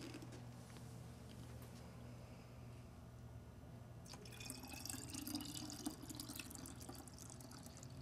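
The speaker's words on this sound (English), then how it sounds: "I'm just going to pour this carefully back into the bottle." White ink from a Viper DTG printer trickles faintly as it is poured back into its bottle, a soft dripping stream that grows a little stronger halfway through.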